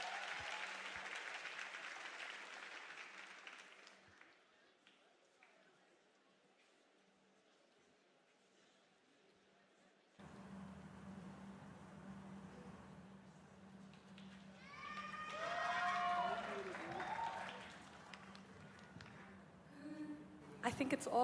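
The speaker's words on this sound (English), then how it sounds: "Give them a round of applause." Audience applause at the Northlink College spring graduation ceremony, a broad wash of clapping that fades to a quiet stretch, then returns with a hall murmur, voices and some whoops toward the end.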